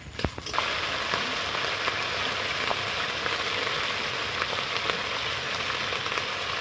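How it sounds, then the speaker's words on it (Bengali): Cashews, raisins and bay leaves fry in hot oil, giving a close, steady crackling sizzle with scattered sharp pops and no voices. "এখানে আমি কাজু বাদাম দিয়ে দিলাম তেলের মধ্যে, কিশমিশও দিয়ে দিলাম, তেজপাতা"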